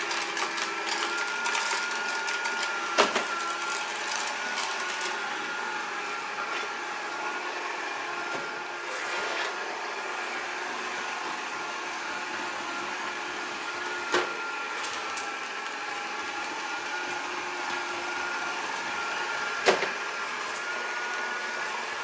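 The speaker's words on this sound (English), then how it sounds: "So the vacuum has made its way to the next room, working away." A Proscenic 820S robot vacuum cleaner runs steadily indoors with a constant motor whine and brush whir, occasionally broken by sharp clicks and bumps as it works its way through a room.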